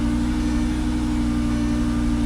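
Car engine running steadily as the vehicle is driven off ramps, a close, constant low hum with a fixed pitch and no revving, alone without voices.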